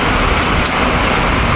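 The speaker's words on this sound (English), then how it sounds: "started raining" Steady rain falls outdoors as a dense, loud, continuous hiss with no pauses or voices.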